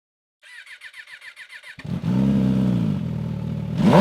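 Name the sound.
MV Agusta Rush Limited Edition motorcycle exhaust sound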